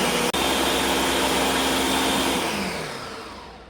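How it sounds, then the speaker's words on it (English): Blender grinding a veggie broth mixture, a loud steady motor roar that runs continuously after a brief start, then slowly winds down. "And I'm just gonna grind this up really quickly."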